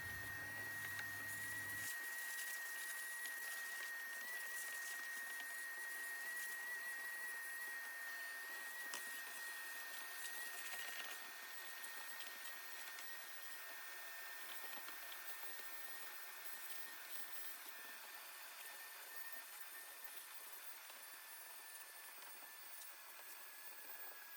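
A vacuum cleaner runs continuously inside a Toyota Hilux, cleaning the interior with a steady high whine and airy hiss, close and constant throughout, no voices.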